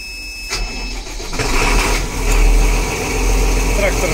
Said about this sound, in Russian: Трактор заводится.